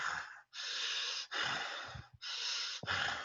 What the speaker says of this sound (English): we start hearing some breathing, right?